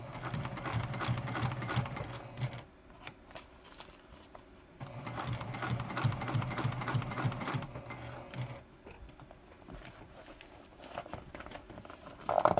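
A sewing machine stitches a bag seam in two steady bursts of fast mechanical whirring, separated by a short pause with quiet handling and fabric rustle, followed by softer fiddling sounds and a closing clunk.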